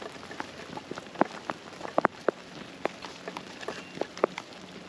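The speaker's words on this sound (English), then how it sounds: "Starts to rain a little bit" Light rain falls on a mountain campsite, scattered drops tapping irregularly against surfaces over a soft steady hiss, fairly faint and close with no voices.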